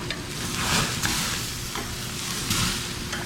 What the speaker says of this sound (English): Absolute sear. It's been 4 minutes, time to flip.